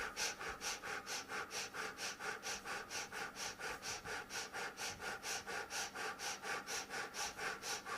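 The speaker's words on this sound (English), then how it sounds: "Fire breathe again." Breath of fire exercise: rapid, rhythmic forceful breaths through the nose, about three per second, close and steady for several seconds with no talking.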